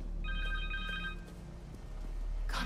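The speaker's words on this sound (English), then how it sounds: "Phone." A cell phone rings in Spider-Man 2 on PlayStation 5, a short repeating electronic trill over a low hum, fairly faint and close.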